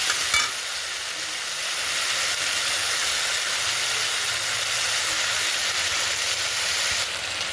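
Ghugni masala with added sugar sizzles steadily in a pan as it is stirred and sautéed, giving a continuous close hiss that cuts off abruptly at the end.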